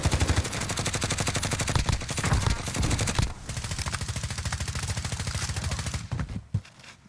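Rapid, steady gunfire from a Call of Duty: Warzone match, with dense repeated shots running almost continuously for several seconds before thinning out near the end, loud and close with no talking.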